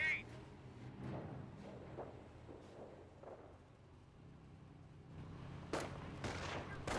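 Rifle squad gunfire in a Company of Heroes 1 multiplayer battle: scattered, fairly distant shots pop irregularly amid a low rumbling battlefield bed, with a couple of sharper, louder cracks near the end.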